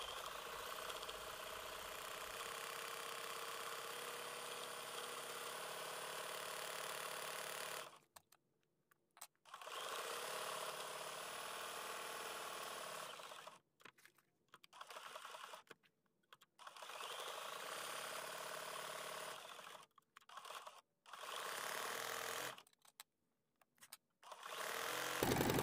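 A sewing machine stitches a raw edge applique quilt block, running in long steady whirring bursts broken by short pauses, close and alone.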